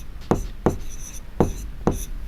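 Pen strokes writing a maths solution by hand on paper, four short distinct scratches in an even rhythm, close and fairly soft, with no talking.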